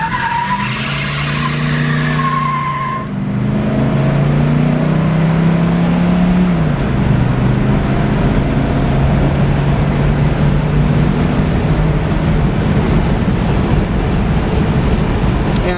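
A 1973 Buick Riviera Boattail engine drones steadily while cruising, a loud continuous rumble with gear changes shifting its pitch, wind and road noise throughout.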